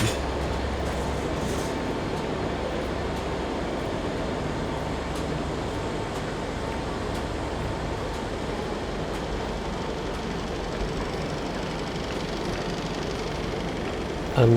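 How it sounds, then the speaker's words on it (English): Pullman train of restored vintage coaches hauled by two Deutsche Bahn Class 67 diesel-electric locomotives, a steady loud rolling rumble of wheels and engines passing close by for the whole stretch, with no voices. "it is hauled by two Class 67 diesel electric locomotives from Deutsche Bahn"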